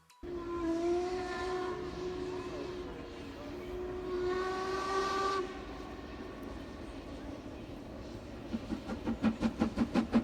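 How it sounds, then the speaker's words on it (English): A train whistle sounds in two long, sustained blasts at Glenfinnan, Scotland, then the engine approaches with rapid rhythmic chuffing growing louder. "because here comes the train."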